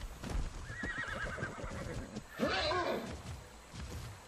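A horse whinnies twice in a video game, a rising squeal followed by a louder, shakier neigh, over a low rumbling background.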